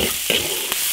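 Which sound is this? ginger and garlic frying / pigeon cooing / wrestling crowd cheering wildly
ginger and garlic frying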